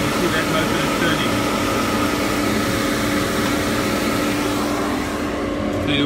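The fan motor of a flue-curing tobacco dryer runs with a steady, loud whirring drone and broadband air rush that holds constant throughout the clip, close to the listener.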